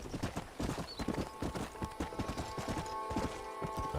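Horse hooves clip-clop steadily in Red Dead Redemption, a rapid, even rhythm of close, loud hoofbeats with a brief whinny-like tone, no talk.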